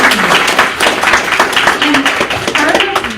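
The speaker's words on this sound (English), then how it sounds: "So can everybody just give Joseph a round of applause?" An audience at a grand opening of a mentoring organization applauds, producing dense continuous clapping at close range, with voices and cheers mixed in throughout.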